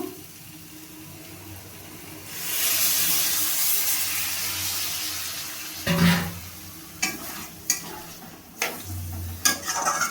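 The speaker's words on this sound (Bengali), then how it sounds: "এবার আমি পরিমাণ মতো জল দিয়ে দেবো পটল আর আলুটাকে ভালোভাবে সেদ্ধ করার জন্য" Water poured into a pan of braised pointed gourd and potatoes, a rushing splash followed by hissing and several sharp stirring scrapes and knocks against the pan.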